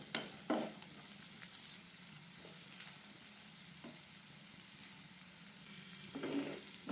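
Vegetables for a potato omelette fry in a pan with a soft, steady hiss, broken by a few brief stirring scrapes and a louder clatter at the very end.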